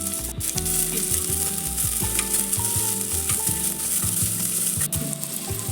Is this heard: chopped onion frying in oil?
yes